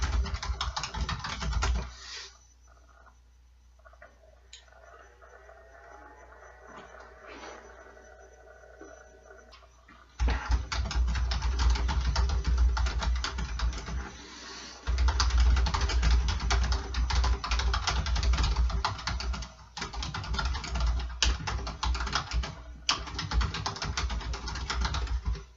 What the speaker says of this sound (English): I'm going to write this text live right now.